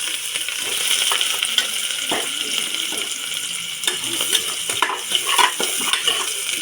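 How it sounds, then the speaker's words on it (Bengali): Onion and chicken stirred in a hot pan, a continuous background sizzle with light clinks and scrapes of a utensil against the pan, close by, no speech. "তারপর পেঁয়াজটা দিয়ে ভালোভাবে একটু নেড়ে ফেলে নিচ্ছি"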